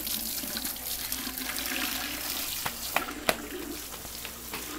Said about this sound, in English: I'm rinsing it.